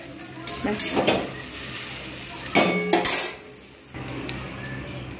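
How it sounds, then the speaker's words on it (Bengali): Egg chow mein being stirred in a pan: a metal spatula clatters and scrapes in quick uneven bursts over a continuous frying sizzle, close and clear, with no speech. "এইবার আমি এটাকে ভালো করে নেড়ে নেব"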